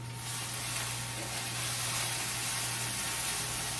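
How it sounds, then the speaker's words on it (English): Chopped onions sizzling in a frying pan over high heat while being stirred for vegan stuffed peppers, a steady close hiss lasting throughout with a low hum underneath and no talking. "I'm gonna stir my onions"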